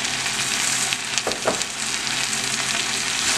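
Tomato frying in a pan for chicken tinga, a steady loud sizzle throughout with a brief stirring scrape in the middle.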